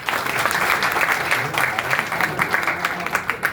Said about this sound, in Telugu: నెహ్రూ కూడా చప్పట్లు కొట్టండి.